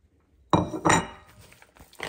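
Onion and garlic being mixed in a pan for Kohlrouladen, with a few sharp scraping clinks of a utensil against the pan followed by fainter stirring scrapes.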